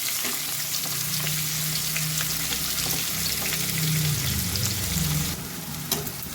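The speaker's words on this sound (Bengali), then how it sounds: "পেঁয়াজটা আমার ভাজা ভাজা হয়ে গেছে" Onions fry in a pan of oil for a Bengali-style duck egg curry. A loud, continuous sizzle is heard close up, broken by scraping stirs.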